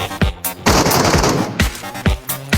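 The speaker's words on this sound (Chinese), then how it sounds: "刚进来就听见有枪声" Gunfire in a subway escape shooter game: a few sharp single shots, then a rapid sustained burst, then more scattered cracks, all loud and close.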